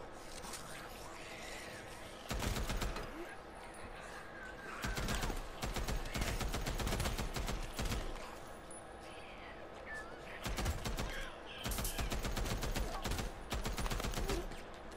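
Gunfire from the video game Days Gone during a horde fight: bursts of rapid shots in several clusters over a constant game background, loud and close, with no talk over the shooting.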